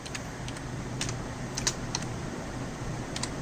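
Fingers typing a folder name on a computer keyboard, a quiet irregular run of light key clicks with small bursts and pauses over a faint hum.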